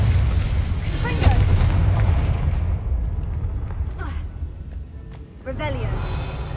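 A Confringo explosive spell in a wizard video game, heard as a sustained booming, rumbling blast. The roar fades and then swells again with a second burst near the end.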